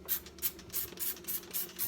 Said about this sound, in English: you spray and you get all the little dirty little areas